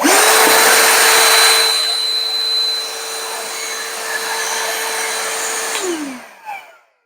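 A Ryobi 18V PCL705 cordless hand vacuum whirs steadily at close range with a high motor whine, dipping slightly in pitch partway through before spinning down and cutting off near the end.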